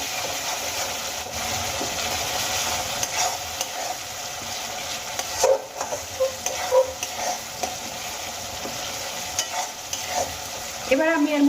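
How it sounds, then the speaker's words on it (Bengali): Tomatoes with onion, ginger, garlic and spices pressed and mashed with a spatula in a hot pan, with steady sizzling and frying plus scattered scraping and tapping of the spatula, close and continuous, no talk. "এবার আমি খুন্তি দিয়ে চেপে চেপে পেঁয়াজ আদা রসুন এই সমস্ত মশলার সঙ্গে টমেটোগুলোকে মিশিয়ে নেব।"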